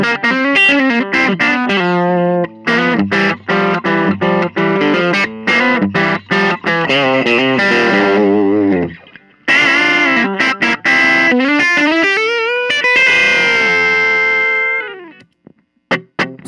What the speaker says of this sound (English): we're going to plug in the RC booster and see what that sounds like